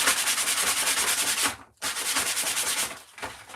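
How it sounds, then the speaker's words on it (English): A hand-carved wooden toy car being sanded, with quick, rhythmic rasping strokes up close, a brief pause partway through, then more scrubbing. "what I will do is just give it a sand"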